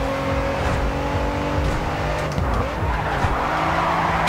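A race car drifts with skidding, squealing tires in the Grid 2 racing game, the engine droning steadily and the tire screech rising and falling over several seconds, loud and close without talk.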